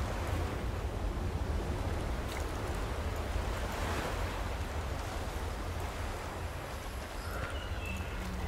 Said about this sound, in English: Wow, look at the waves. Very cool.